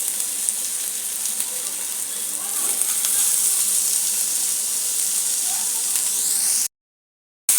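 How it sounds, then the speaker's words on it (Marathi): Chopped onion fries in a spoonful of oil in a pan, giving a steady, fairly loud sizzling hiss that runs without a break and then cuts out abruptly near the end; no voices. "त्यामध्ये आपल्याला कांदा भाजून घ्यायचा आहे"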